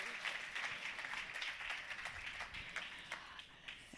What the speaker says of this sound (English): Let's give them a warm round of applause, please, all of the stakeholders